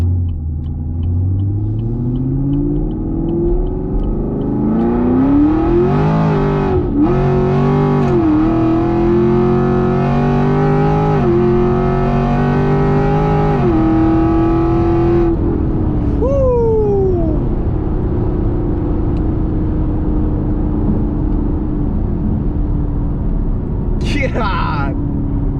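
A 550 hp Chevrolet Camaro engine revving and accelerating hard from inside the car, rising pitch sweeps through gear changes, loud and close, with tire noise and people talking and reacting over it.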